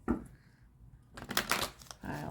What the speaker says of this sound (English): they want me to shuffle again